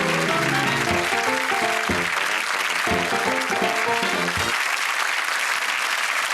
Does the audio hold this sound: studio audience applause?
yes